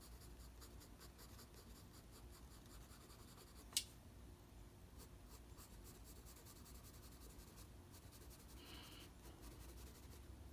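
Steady, quiet pencil strokes rub and scratch across paper while shading tucked-in flower petals in a drawing from life, a continuous soft texture running throughout with one brief sharp tick partway through.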